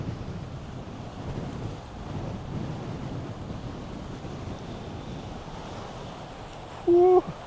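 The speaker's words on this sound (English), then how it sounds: "It's windy." Strong wind sweeps the Tasmanian coast at Cockle Creek, a steady low rushing roar with gusty buffeting close to the microphone and a brief tonal blip near the end.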